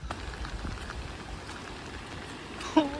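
Heavy rain falls during a typhoon in Jeju, a steady close patter and hiss of drops on surfaces throughout, with a brief faint knock near the end.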